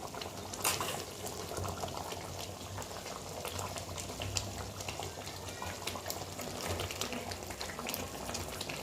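Tamarind gravy simmers in a pot, a continuous soft bubbling and popping that sounds close and fairly quiet and carries on steadily with no voices.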